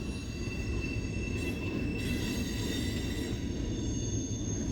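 A freight train rolls steadily past at Santa Fe Junction, a continuous heavy rumble of wheels on rail with faint high squealing tones, close and unbroken throughout.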